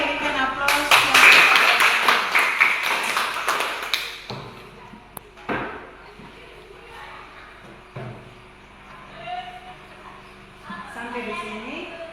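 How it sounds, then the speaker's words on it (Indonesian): A school class claps for about four seconds, many hands in quick uneven rhythm, near and fairly loud, then a teacher's voice and room shuffles follow. "semua berikan aplaus"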